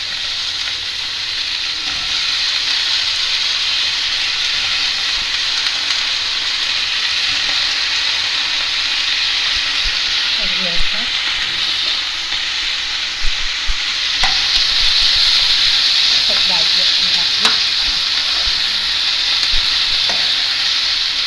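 Chopped eggplant, onion and potato sauté in hot oil with a loud, continuous close sizzle, while occasional stirring scrapes and clicks rise over the steady frying hiss.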